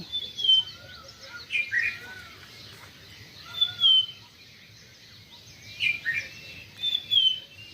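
Bright, high bird chirps come in short clusters of tweets, separated by brief pauses over a soft, steady background hiss.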